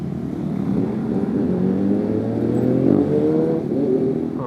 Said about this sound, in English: That R6 sounds so freaking good.